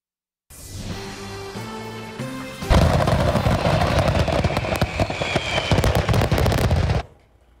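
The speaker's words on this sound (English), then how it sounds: "that's the sound of an entire night's firework display accidentally exploding before showtime" A loud, dense barrage of an entire fireworks display accidentally exploding at once, starting with a few tonal pops and then erupting into continuous rapid explosions for several seconds before cutting off.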